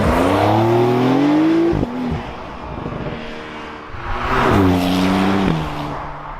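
Twin-turbo flat-six of a 2021 Porsche 911 Targa 4S Heritage Edition (992) revving hard under acceleration, pitch climbing through two gear pulls with a sharp break between them, loud and close with no talking.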